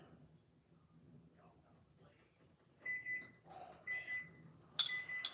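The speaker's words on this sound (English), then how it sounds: "I don't even know what that timer was for." A kitchen timer beeps in a few short, bright bursts near the end, loud and close, after quiet murmuring and kitchen sounds while dumpling lasagna is being served.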